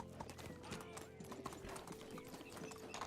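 Horse hooves clip-clop steadily in the medieval video game Medieval Dynasty, a continuous rhythmic trot with a faint whinny, quiet and even throughout, with a voice partly heard over it.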